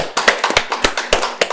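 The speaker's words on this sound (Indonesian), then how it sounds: "Tepuk tangan dulu dong Pak." A small group claps by hand during a podcast interview, about a dozen close, uneven claps in quick succession, with no talking.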